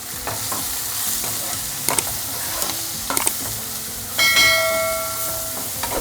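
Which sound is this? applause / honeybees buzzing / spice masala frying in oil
spice masala frying in oil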